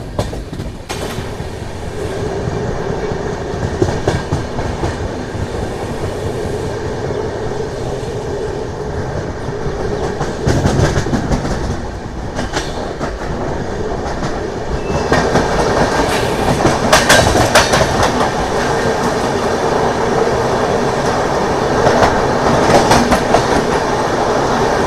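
The Nanded to Tirupati special train runs on its rails after leaving Nanded, with a continuous rolling rumble and clickety-clack of wheels that grows louder and busier partway through, and no voices.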